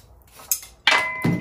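A wire brush scrapes a hot forge-welded gun barrel between welding heats, giving a few short, bright metallic rasps and clinks close up, with a louder ringing scrub near the end.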